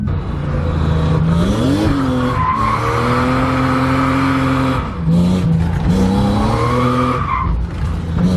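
A BMW E36 drift car slides with loud, sustained tire squeal over a revving engine, the screech bending up and down in pitch through the whole drift.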